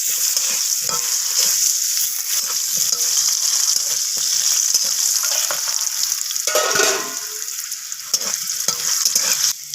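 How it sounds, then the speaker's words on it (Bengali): Cut potatoes frying in hot oil in a home kitchen, a steady, loud, close sizzle that fills the whole stretch with crackling bursts and occasional stirring, no voices. "তো আলুগুলোকেও একইভাবে লাল লাল করে ভেজে নেব।"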